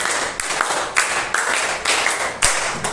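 Hand claps struck in a steady rhythmic pattern, a group of sharp close claps repeating in counted bursts over a soft background hiss.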